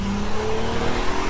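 Audi A3 3.2 V6 accelerating hard in first gear, a loud close engine roar pulling strongly for a brief burst with no voices.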